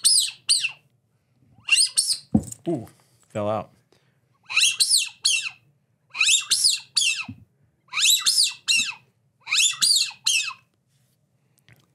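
A Widgeon Magnet duck call imitating a widgeon gives bursts of high, rapid whistled peeps in a steady repeating pattern, with brief talk partway through.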